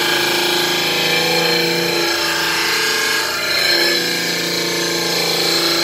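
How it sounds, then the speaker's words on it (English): A dental lab trimmer grinds down a plaster dental model, a loud continuous high-pitched whine and rasp that dips briefly midway as the model is pressed against the wheel. "So I'm going to trim this model down."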